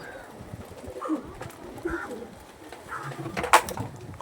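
Two Andhra pigeons coo softly and intermittently, with quiet low murmurs amid faint background noise and a sharper burst near the end.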